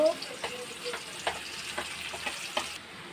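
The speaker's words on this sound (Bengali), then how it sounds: "এবার পেঁয়াজগুলোকে ভেজে নেব" Onions fry in hot oil in a pan, a soft continuous sizzle broken by a handful of light stirring scrapes at a fairly quiet level, with no voices.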